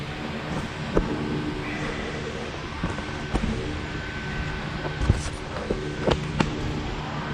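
Welding a patch panel into a 1977 Cutlass body, a dense broadband crackle and hiss running steadily, with sharp spits and pops scattered through it, close and fairly loud.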